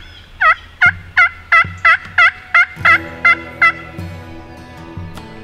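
Wild turkeys gobbling at dawn in a Kansas field during a spring hunt, roughly nine loud, close gobbles in quick succession, followed by quieter rustling and faint background sounds.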